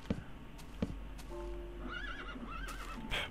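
A horse neighs in a modded Minecraft game, a wavering whinny rising and falling over about two seconds, preceded by a few soft hoof clops and ending with a brighter snort-like burst.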